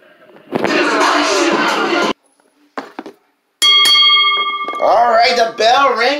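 At an ECW WarZone table match, the ring bell rings out once, loud and clear, with its tone ringing on, after a stretch of loud crowd and announcer talk. An announcer keeps talking over it.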